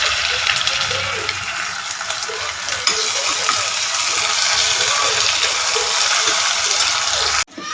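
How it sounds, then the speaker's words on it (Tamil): Ginger garlic paste sautés in a hot pan for chicken salna, giving a steady, loud, close sizzle with stirring scrapes throughout, then a sudden drop at the end. "இஞ்சி பூண்டு பேஸ்ட் நல்லா வதங்கிடுச்சு"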